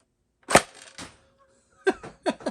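A Nerf Fortnite GL rocket launcher shooting foam rockets at a toy bunker: sharp close pops, one near the start, another soon after, then two more toward the end, with quiet mechanical rustle between shots.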